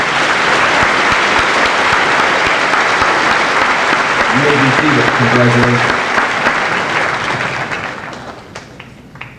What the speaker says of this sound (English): Let's give these students a great round of applause